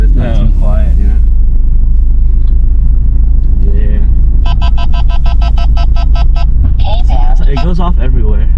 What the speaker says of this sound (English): I love the exhaust in this, man